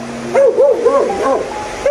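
A dog barks several times in quick yappy bursts, close and fairly loud, with faint background noise.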